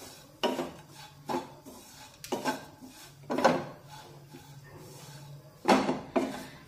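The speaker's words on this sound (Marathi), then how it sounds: "3 ते 4 चमचे भाजलेल्या शेंगदाण्याचा कूट टाकूया आणि हा सुद्धा या मसाल्यांमध्ये मिक्स करून घेऊया" A spoon mixing roasted peanut powder into a spice masala in a pan, a series of close scraping and clinking knocks in uneven bursts, with no talk.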